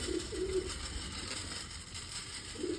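Soft, low pigeon coos come in short bursts near the start and again at the end, with a steady background hum between them.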